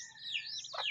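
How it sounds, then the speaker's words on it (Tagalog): A chick gives a single close, high, thin chirp that sweeps up and down, over a quiet background. "Tatlo lang sisiw."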